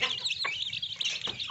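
A hen clucks close by while eating rice, with a short run of soft, throaty clucks and chirpy calls over faint background noise.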